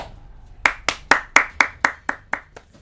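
Steady hand clapping with eight crisp, evenly spaced claps close to the microphone, rising in sequence, offered as applause during a Far Cry 3 gaming session.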